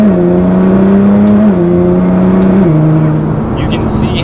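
A 600 wheel-horsepower Nissan GT-R R35 Premium accelerating on the road, a loud, steady engine drone that rises in pitch and drops with quick gear changes, heard from inside the car.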